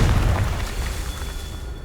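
Confringo fire-blast spell exploding in Hogwarts Legacy, a loud deep boom opening the clip and rumbling away over the next two seconds without any talk.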